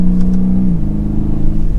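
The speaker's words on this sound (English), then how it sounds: "You get some good sounds from the engine end of the exhaust." A twin-turbo V8 in a 2021 BMW M850i xDrive Coupe revs hard and close, its deep engine and exhaust tone holding steady, then dropping slightly in pitch as it continues to pull.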